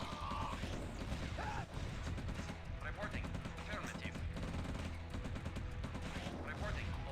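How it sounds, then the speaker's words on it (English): Gunfire and explosions from Command & Conquer Red Alert during a Soviet mission, a continuous crackling barrage that runs under a talking voice and busy game sound. "We will greet them in the traditional Soviet manner,"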